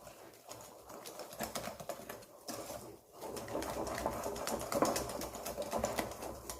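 Pancake batter with milk, for soft quick pancakes, is whisked hard in a bowl: a rapid, steady run of light clicking and tapping that keeps going for several seconds, close up, with no voices.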